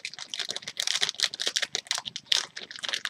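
Packaging of a LEGO Legends of Chima magazine being torn open, a quick series of close, crisp ripping and crinkling bursts, fairly quiet and with no voices.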